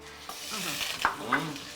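A rack of lamb sizzles in a hot, oiled pan, the fat side seared first, giving a short close burst of spitting and hissing that swells with a couple of crackling pops.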